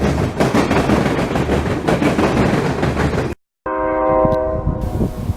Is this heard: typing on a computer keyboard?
no